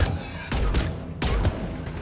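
Valiant sniper rifle in Mass Effect 3, fired twice with sharp broadband cracks about three-quarters of a second apart, each trailing into a short rumble over steady battle background.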